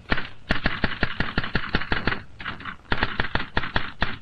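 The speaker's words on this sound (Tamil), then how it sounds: "தனியா உட்கார்ந்து என்ன டைப் பண்றீங்க?" A typewriter clacks in quick, sharp strikes, keys hammering in an irregular rhythm with a brief pause midway, loud and close with no voices.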